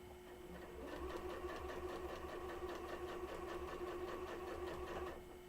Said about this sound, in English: Right now I'm just sewing jelly roll strips together.